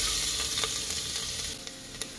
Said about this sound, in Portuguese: Daí eu vou dourar aqui o alho.